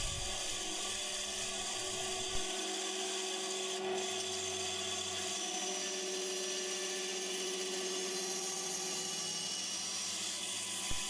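Hand saw cutting a wooden clock wheel, a faint, steady rasping of fine strokes heard close, continuous with slight variations and no talking.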